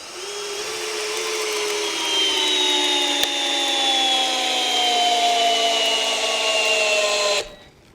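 A Heimerdinger LB180 cordless drill whines steadily as its pitch slowly drops under load driving a screw, grinding continuously before cutting off abruptly at the end.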